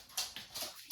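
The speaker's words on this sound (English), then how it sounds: "that's my dog's playing on the ground." A dog playing on the floor indoors, giving a few short, soft whimpering yips and scuffling bursts spread across a brief moment, with no talk over it.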